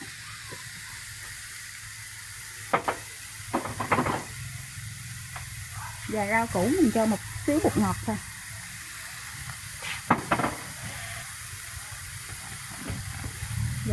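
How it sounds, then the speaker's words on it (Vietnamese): A vegetarian porridge mixture is stir-fried in a pot, giving a steady low sizzle and hiss with occasional spoon scrapes, while someone speaks over it in the middle. "Mình xào tất cả hỗn hợp này giờ một lúc."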